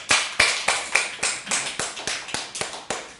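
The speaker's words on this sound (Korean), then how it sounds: "하나님께 영광의 박수 올려드립니다" A church congregation claps in unison during a Sunday sermon, a steady beat of about a dozen sharp, loud, evenly spaced claps with no voices.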